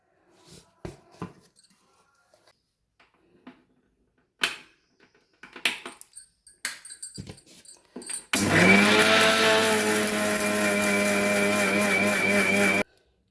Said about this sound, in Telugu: ఫస్ట్ ఫస్ట్ వీటిని మాత్రం మిక్సీ పట్టుకుందాం